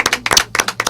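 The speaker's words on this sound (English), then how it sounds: "Let's say applause to all of us." A handful of people clap briefly on a radio call-in show about caregiver resources, a few scattered claps in loose bursts over about a second, close and fairly loud.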